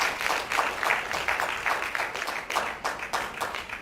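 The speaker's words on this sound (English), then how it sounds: "A round of applause for him." Steady applause from a crowd, a continuous patter of many hands clapping that swells and fades slightly, with faint murmuring underneath.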